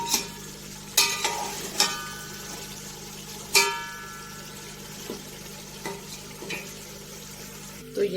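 Chicken biryani mixture being stirred in a pot, a continuous low sizzle broken by several sharp scrapes and knocks of the spoon against the metal, close by.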